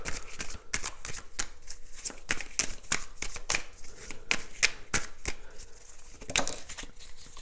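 Tarot cards shuffled and drawn by hand, a rapid irregular series of crisp flicks and slaps close to the microphone, continuing steadily throughout.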